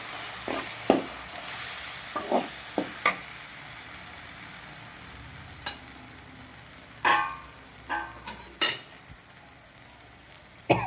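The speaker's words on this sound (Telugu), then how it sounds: "ఒక 10 minutes వేయించుకోవాలి." Pudina (mint) fried rice sizzles steadily in a pan, with sharp scrapes and clinks as it is stirred at irregular intervals.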